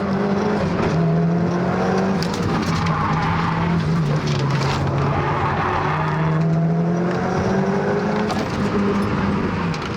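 A Mitsubishi Evo is driven hard around a race track, with a constant loud engine note rising and falling between gear changes and tyres squealing and skidding through the corners.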